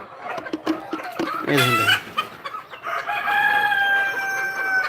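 Laying hens on a poultry farm cluck and squawk close by, with one rooster-like crow rising midway and continuous fowl chatter throughout.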